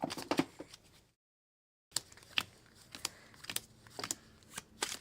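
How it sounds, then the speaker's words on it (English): Cards from the market deck of the Sleeping Gods board game being shuffled by hand in quick riffling bursts, with a brief silent gap partway through and no talk over it. "So do you want to shuffle the market deck?"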